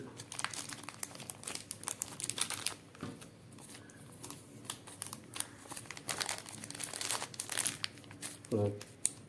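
Paper being folded and crumpled around a remote control: close, crisp crinkling and rustling in short bursts, heard under a person talking.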